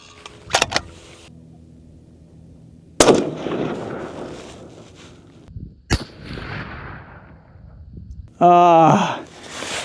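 Rifle shots are fired while checking scope zero: two sharp, loud reports a few seconds apart, each followed by a decaying rumble, with other handling noise and a brief tonal beep near the end.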